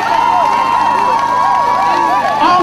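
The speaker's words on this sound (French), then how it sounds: "Encore beaucoup d'applaudissements, s'il vous plaît, pour Anta Kwasi" A loud crowd at a political demonstration in Paris cheers and shouts continuously, a dense wash of voices with whoops rising over it, sustained throughout.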